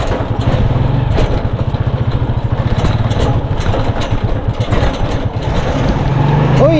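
A Ford Ranger pickup truck engine drones steadily while driving on a road, a loud continuous rumble with a pulsing low throb and no talk over it.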